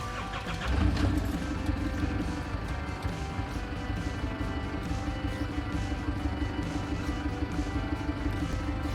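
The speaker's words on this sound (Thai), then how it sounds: "อันนี้คือเสียงเครื่องเขาครับ" An Isuzu Trooper's 3.0-litre 4JX1 turbo diesel engine idles steadily with a low, rumbling rhythmic clatter, continuous and close, after a brief louder moment near the start.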